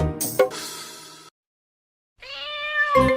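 A cartoon cat meows twice, close and clear: a short cry, a pause of silence, then a longer, rising meow.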